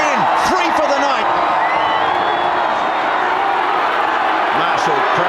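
A Super 12 rugby stadium crowd roars and cheers continuously, a dense, loud wall of voices with whoops rising above it, while a commentator talks over the noise.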